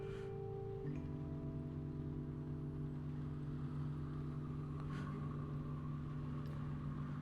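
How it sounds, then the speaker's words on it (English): A truck engine in the video game Night Call drones at a low, steady pitch, shifting up in tone as it accelerates, faint and continuous with a brief knock partway through. "Like this guy over here trying to accelerate his truck."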